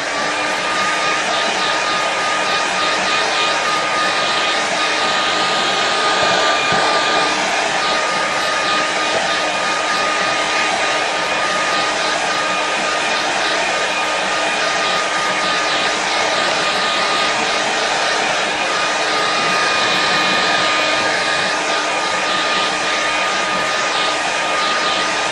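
A hair dryer blowing to dry a watercolour painting, a loud, steady whirring hiss that runs unbroken for about twenty-five seconds.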